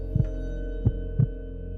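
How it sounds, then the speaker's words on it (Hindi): Three dull thumping heartbeats, quick and evenly spaced, thud over a low steady hum in a heartbeat sound effect. "आपके दिल की धड़कन तेज हो जाती है।"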